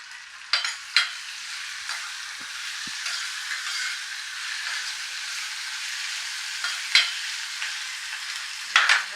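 Ginger pieces, chopped green chilies and tomato chunks frying in a pan with a steady sizzle that runs throughout, plus a few sharper spatter pops and the occasional scrape of stirring, all fairly close and with no talking.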